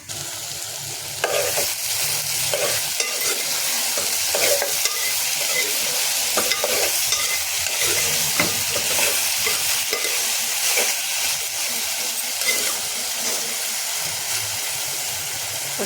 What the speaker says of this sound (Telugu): ఇప్పుడు మూత వేసుకుందాం కాసేపు నూనెలో మగ్గాలి